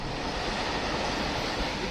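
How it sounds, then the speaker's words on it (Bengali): Freight train rolling past on a rail line through an industrial area near Ghatshila, a loud, steady, dense rumble with constant roar and no clear gaps, no talking. "ইন্ডাস্ট্রিয়াল এরিয়া তো, ওই জন্য মালগাড়ি এখানে বেশি দেখতে পাচ্ছি। প্যাসেঞ্জার ট্রেনের থেকে মালগাড়ি বেশি চলছে রুটে।"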